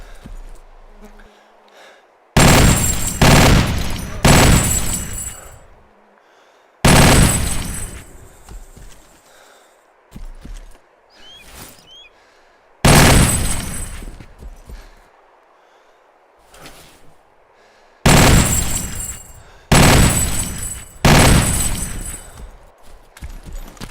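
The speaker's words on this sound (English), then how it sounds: "It's probably me shooting that massive big gun." A massive heavy gun in ARMA 2 DayZ Overpoch fires a series of loud, harsh blasts, about six spaced bursts, some in quick pairs, each separated by near-silence with faint background hum.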